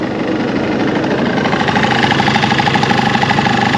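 A first-generation Honda Live Dio ZX scooter idles close by, its engine running in a steady mid-pitched drone while a light, fast clattering rattle from the muffler rides on top throughout.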